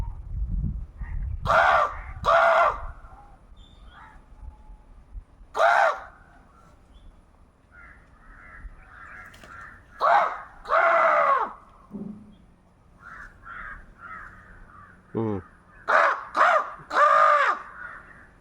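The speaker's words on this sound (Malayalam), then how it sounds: "കാക്കയുടെ ഒച്ച കേട്ടോ കേൾക്കാം" Several crows caw loudly and harshly, in short bursts of two or three calls with pauses between, fairly close by.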